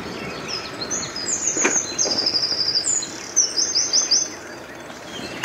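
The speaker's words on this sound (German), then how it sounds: "Also der Gesang von den Vögeln ist ja schön." Birds singing in a small park, with repeated high chirping and trilling phrases from nearby birds over a soft outdoor background, without any talk.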